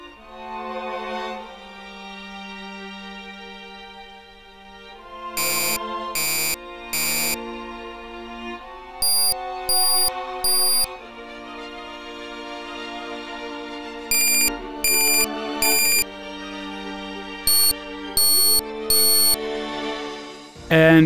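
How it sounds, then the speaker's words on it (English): In an F-4E Phantom cockpit in the DCS flight simulator, the radar warning receiver sounds repeated bursts of sharp electronic beeps in rhythmic groups of three over a continuous tonal cockpit hum, loud and close. "the kind of beeps are associated with a kind of radar"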